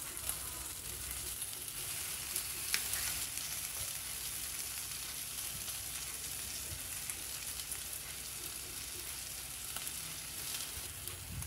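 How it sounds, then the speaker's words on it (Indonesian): Chicken pieces grill in margarine, giving a loud, steady sizzle with crackling spits throughout, close and uninterrupted. "kita tambahkan sedikit margarin atau mentega. Sekarang kita panggang ayamnya."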